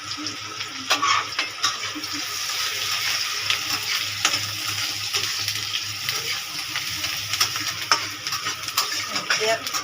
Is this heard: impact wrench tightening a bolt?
no